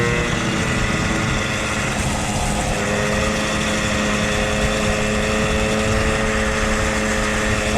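Moped with a racing variator being ridden, its small two-stroke engine buzzing loud and steady at high revs for the whole stretch, with wind rushing past.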